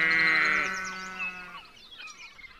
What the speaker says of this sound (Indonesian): Ternyata ini kambing.